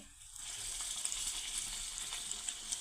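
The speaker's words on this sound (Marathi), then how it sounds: "आता याच्यामध्ये तयार केलेली पुरी टाकून घेऊया" A puffed puri frying in hot oil, a close steady bright sizzle with small crackles and pops running throughout, no voices.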